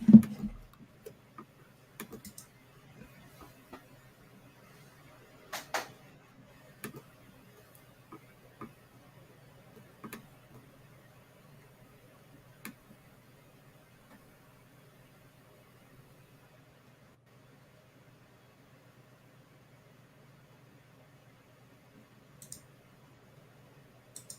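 A computer mouse clicks irregularly and faintly at close range, scattered single clicks spread over a long quiet stretch with a low steady background hum.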